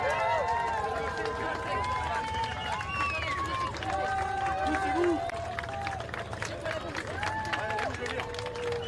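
A massive crowd lines the Route du Sel in Hyères for the 2024 Olympic flame relay, a steady wash of cheering, chatter, whistles and scattered clapping going on throughout.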